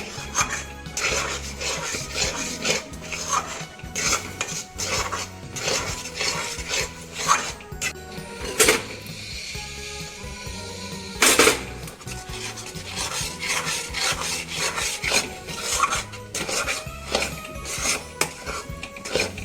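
A spoon scrapes and stirs a thickening milk peda mixture in a pan over low gas while rice flour is added bit by bit, giving continuous close scraping and metallic clinks with no talk.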